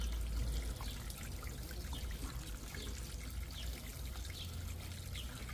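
Chicken thighs being mixed by hand in a soy sauce and spice marinade, a steady wet squelching and sloshing texture, close and fairly quiet.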